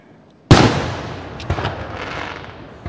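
A big July 4th firework bursts with a loud, sudden boom, and its crackling tail fades over a few seconds while further softer pops follow close behind, outdoors at a distance.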